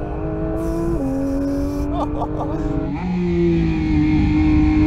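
A Porsche 911 GT3 accelerates hard out of a corner on a race track, its engine revving high through gear changes as the pitch rises and drops inside the cabin.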